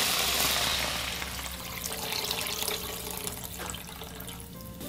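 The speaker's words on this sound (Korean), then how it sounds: "먼저 볶은 북어채에 물 넣어주세요." Water pours steadily into a pot of stir-fried dried pollack for soup, a continuous close rushing splash that softens slightly as it goes on.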